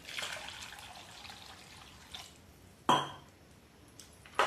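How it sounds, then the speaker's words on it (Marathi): Water poured into a pot of spiced val beans for a sweet-sour birde curry, a faint splashing trickle followed by sharp clanks of a utensil against the pot, with no talk. "आणि पाणी टाकायचं आपल्याला त्याच्यात"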